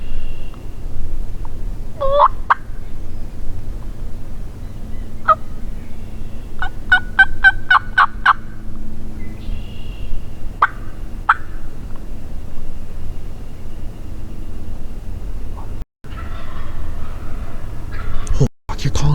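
Wild turkeys gobble during a public-land spring hunt in Michigan's Upper Peninsula, rapid rattling calls repeated several times at moderate distance over quiet woods, with people whispering nearby.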